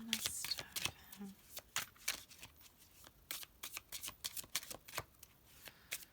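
Tarot cards are shuffled by hand in a quiet room, a string of crisp riffling snaps and soft slaps in irregular bursts, close and clear, with a faint murmur of speech here and there.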